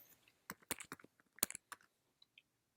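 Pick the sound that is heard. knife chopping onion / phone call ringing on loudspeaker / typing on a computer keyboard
typing on a computer keyboard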